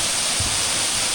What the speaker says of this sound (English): We're going to the top of the waterfall now.